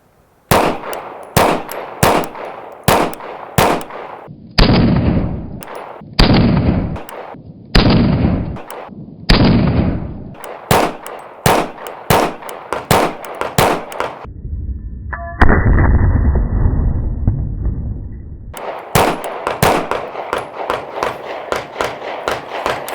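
Canik Prime pistol firing Blazer ammunition: a long string of loud, sharp close-range gunshots in quick succession, with short pauses and a sustained burst of noise midway before the rapid shots resume.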